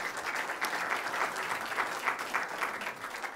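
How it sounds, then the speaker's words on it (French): An audience claps for a presenter at a French conference or pitch event, a brief, dense burst of applause at moderate distance. "Merci Arnaud, on peut t'applaudir"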